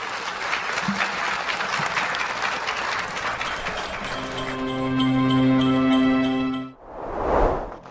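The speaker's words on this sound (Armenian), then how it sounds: "Բարձր ծափահարություններ։" Loud, dense applause from a crowd fills the first several seconds, then thins out as a bright chiming jingle with sustained tones takes over, ending with a short burst of noise.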